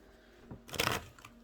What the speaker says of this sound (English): I'm gonna go ahead and shuffle for you guys.